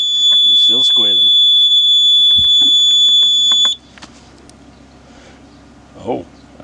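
Flymo 1200R robotic mower sounding its tilt-fault alarm: a loud, steady high electronic tone with overtones, running continuously for about four seconds before cutting off abruptly, with a voice talking over its start and a brief voice afterward.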